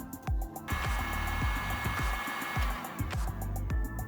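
A heat gun blows steadily to shrink heat shrink tubing during a shore power and inverter/charger wiring job, a constant airy hiss and whir broken by repeated low thumps and clicks.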